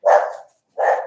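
A dog barks twice, loud and close, with a short pause between the two barks, heard outdoors against an otherwise quiet background.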